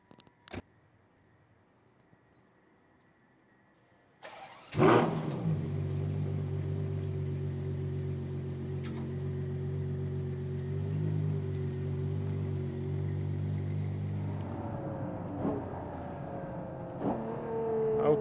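A Ferrari Purosangue engine starts with a loud bark after quiet, then holds a steady, droning tone close up as the car drives on a 1.5-mile circuit, rising again with revving and acceleration near the end.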